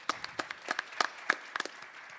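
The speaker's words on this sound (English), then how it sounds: "Let's give her a round of applause." Sparse audience applause at a justice symposium: a handful of people clapping in uneven, separate claps for about two seconds, fairly close and with no voices.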